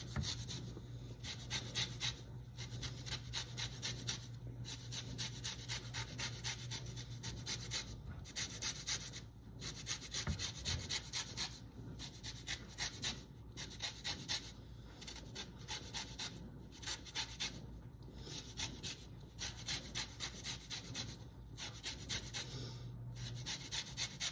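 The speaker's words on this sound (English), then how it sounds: "Pause you there while I got 4 lemons to zest." Rhythmic rasping of four lemons being zested on a grater for a smoked salmon brine, close and steady strokes repeating throughout with no talking.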